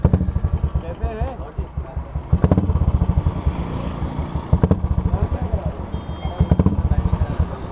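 A Royal Enfield 350 motorcycle fitted with an aftermarket exhaust idles and revs nearby with a loud, pulsing, clattering thump. Steady beats are broken by a few throttle blips, and a voice is faintly audible at times.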